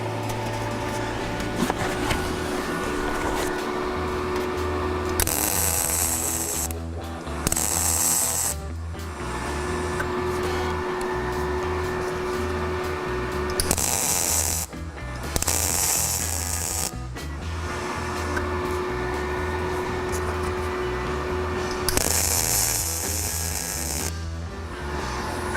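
Welding on rusted car body panels during a rust repair: a continuous, close crackling buzz broken by several harsh hissing bursts, heard alone without talk.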